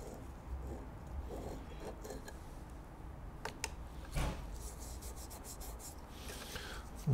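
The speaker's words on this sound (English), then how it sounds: "this is the gasket sealer that's coming off." Old gasket sealer scraped off a sight glass part, giving soft, faint rubbing and rasping strokes with a few sharper scrapes, close up with no talking.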